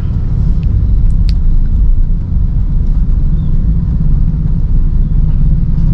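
Steady low road rumble fills the cabin of a 2011 Honda Freed E PSD on the move, a dense, constant drone of engine and tyre noise with no talk over it.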